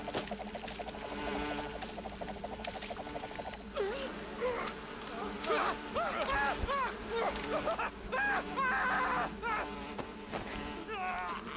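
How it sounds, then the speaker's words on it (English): In Metal Gear Solid 3 Snake Eater HD, a droning swarm of bees keeps buzzing in the background. Game voices and bursts of effects play over it, briefly drowning out the hum at times. "Not the bees."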